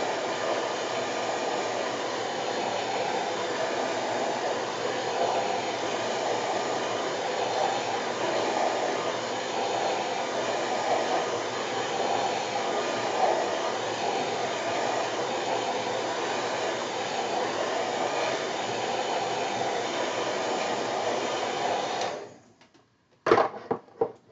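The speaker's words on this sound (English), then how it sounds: "these are not dry enough, so I'm going to give these a quick dry" A heat tool blows steadily while drying watercolor-stamped plant images on paper: a loud, continuous whooshing whir held for over twenty seconds, then cut off abruptly, followed by a few faint handling sounds.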